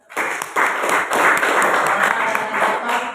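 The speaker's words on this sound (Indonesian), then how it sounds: "Kita berikan aplaus dulu" A classroom audience applauds after a group presentation, a sudden burst of many hands clapping that swells and holds loud and dense for about three seconds.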